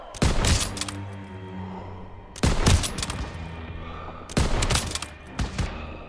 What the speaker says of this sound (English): Lay some suppressive fire so they can take out those flak guns.